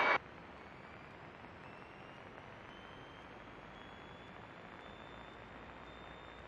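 A light aircraft engine runs up at 1700 rpm before takeoff with the mixture full rich, giving a steady, even drone heard close from inside the cockpit.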